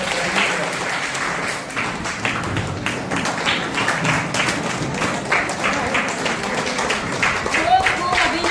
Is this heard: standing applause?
yes